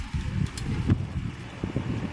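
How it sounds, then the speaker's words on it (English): Gusty wind sweeps across a roof where roofing panels are being installed, a low rumbling buffet that swells and dips with scattered rustles. "The wind is crazy."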